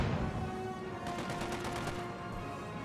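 Rapid machine gun bursts from a placed MG team in a Company of Heroes match, OKW versus Soviets, rattling in quick repeated volleys over a constant battle din, fairly loud and with no talk.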